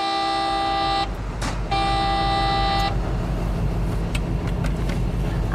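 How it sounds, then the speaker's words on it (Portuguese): A truck air horn blasts twice as a start signal before heavy equipment moves off, two long loud tonal honks separated by a short gap, followed by low engine rumble. "Devemos buzinar por 2 vezes. Isso é o sinal que o equipamento está para sair."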